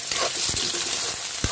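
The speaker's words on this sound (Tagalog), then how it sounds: "mainit na. Lagay natin yung sibuyas with kamatis" Onion and tomato hitting a hot pan, a bright close sizzle with a couple of soft stirring knocks, brief and without talk.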